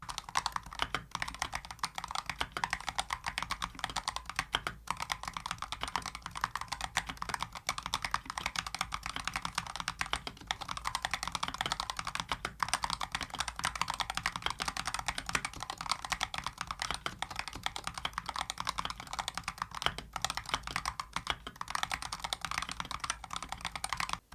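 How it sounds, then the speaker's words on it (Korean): Steady, fast typing on a Razer Huntsman V3 TKL 8KHz mechanical gaming keyboard with deep-stroke switches, dense clicky keystrokes close up with no talking, continuing for over twenty seconds. "자, 그럼 이제 타건 소리 바로 들려드릴게요."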